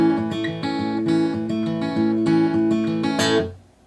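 A fingerpicked acoustic guitar plays the intro to a song, a short melodic phrase of plucked notes, ringing clearly and ending on a final strum that fades out.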